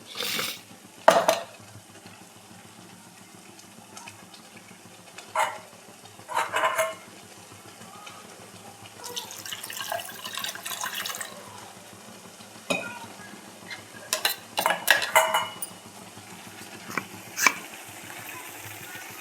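Pea and potato curry being stir-fried in a pan, soft frying underneath irregular bursts of spatula scraping and clanks against the pot, with no voices.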